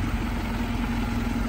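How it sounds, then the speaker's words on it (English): A Chevy 6500 flatbed rollback tow truck's engine idles steadily, a quiet continuous low rumble with a faint hum and no changes in pace. "one of the good things about this truck is it is very quiet compared to the other tow trucks"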